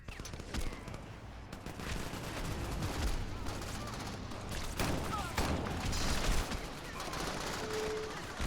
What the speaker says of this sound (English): This is a very nice gun.